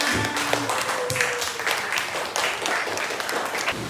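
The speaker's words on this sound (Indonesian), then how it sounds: "Oke, tepuk tangan." A group of schoolchildren clap their hands together in a classroom at an elementary school, a dense, steady patter running throughout with some voices and chatter mixed in.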